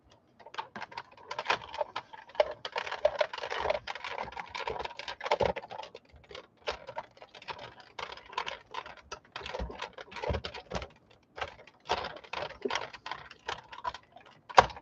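A cutting machine slices a playing card project, giving a long run of quick, dense ticking and tapping clicks at a steady close level, with brief pauses and no talking.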